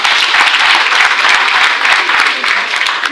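A dense, loud burst of audience applause fills a public gathering celebrating local projects in Savè, many hands clapping continuously and close for a few seconds with no voice over it.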